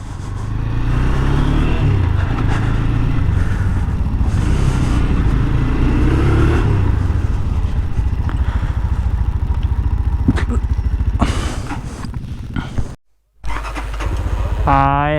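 A motorcycle engine runs and revs at the start of a ride in hilly country, a loud steady close rumble with rising rev swells, briefly cutting out near the end before resuming.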